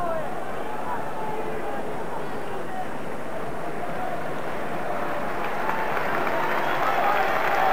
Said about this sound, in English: A very warm round of applause from the Rangers supporters